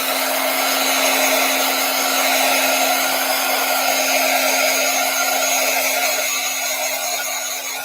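A hair dryer blows steadily to dry sponge-applied paint, a loud and continuous whooshing drone with a constant hum that stays even throughout and has no talk over it.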